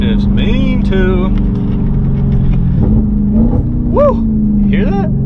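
Dodge Hellcat Charger engine blipping and revving during downshifts, rough rumbling revs rising and falling in several bursts while someone talks over it.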